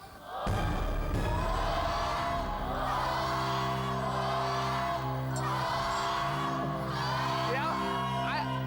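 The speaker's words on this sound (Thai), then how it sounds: "นี่เชียร์ด้วยความจริงใจป่ะเนี่ย เหมือนเค้นเสียงแบบเชียร์กัน" A live studio audience at a Thai variety show cheers and whoops loudly and continuously, with shouts rising and falling over a steady musical backing, the crowd noise sustained throughout.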